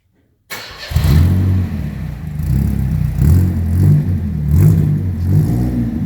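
After a moment of silence, a Chevette engine cranks cold without the choke on and catches, then idles roughly and unevenly with loud, lumpy revving pulses close by.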